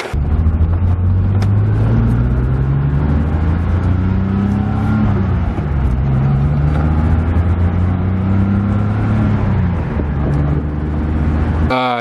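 Heard from inside, a car with something dragging on the ground drives along with a loud, steady engine hum and low rumble that rises and falls as it shifts gears.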